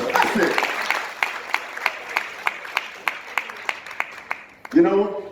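A group of young entrepreneurs applauds a speaker, steady crowd clapping that settles into rhythmic unison claps before fading, followed by a voice starting to speak.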